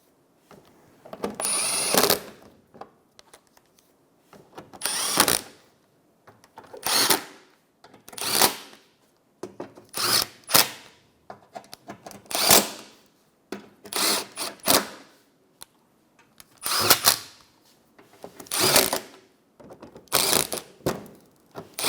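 A power drill tightens bolts on the fog light bezel of a 2014-2019 Toyota Highlander in about a dozen short whirring bursts, each followed by a brief pause.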